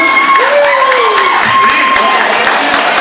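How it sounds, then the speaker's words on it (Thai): Wedding guests applaud in a continuous dense wash of clapping and crowd noise, close and loud, with a whistle-like tone gliding through and some voices mixed in. "ขอเสียงปรบมือด้วยครับ"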